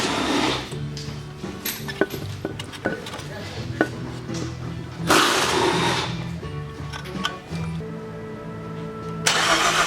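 A V6 Saab engine with newly installed 1000cc injectors cranks, catches and keeps running, a steady mid-pitched idle with sharp clanks and clatter over it, and a brief revving surge near the end.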